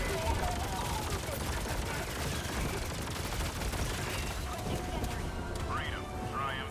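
Autocannon fire in a video game comes as rapid bursts of gunfire over a dense, noisy battle. Faint voices and other game sounds mix in throughout.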